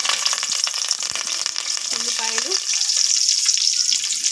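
Whole spices such as bay leaf and cloves fry in hot oil for a spicy chicken curry, giving a loud, continuous close sizzle with a brief scraping stir partway through.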